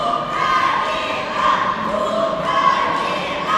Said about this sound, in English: We have the Ukrainian women's team who is cheering for the Ukrainians.